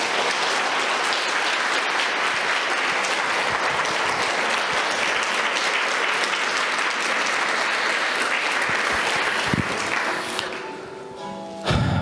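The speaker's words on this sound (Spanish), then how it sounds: "Dé el aplauso al Eterno" A church congregation claps together in sustained, dense applause at close range for about ten seconds, then the clapping thins out and fades into a few scattered claps and room noise.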